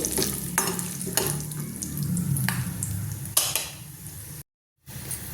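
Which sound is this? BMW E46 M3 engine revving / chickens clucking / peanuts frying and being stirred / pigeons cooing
peanuts frying and being stirred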